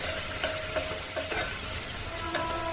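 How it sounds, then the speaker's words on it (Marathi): Ginger garlic paste frying in oil for Puneri misal, a steady close sizzle with a few soft stirring scrapes and clinks of a spoon in the pan, no voices. "आलं लसूण छान तेलामध्ये भाजून घेतलेलं आहे एकदम गोल्डन ब्राऊन होईपर्यंत भाजून घ्यायचं"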